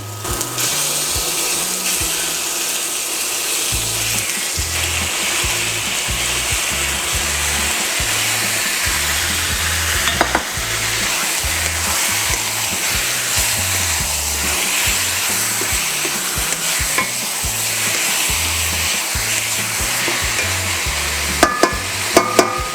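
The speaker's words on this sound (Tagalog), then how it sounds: "Lagay na po natin ang ating chicken." Chicken pieces frying in a pan for ginataang manok, a loud, continuous dense sizzle held close for the whole stretch, with a few faint clinks near the end and no voices.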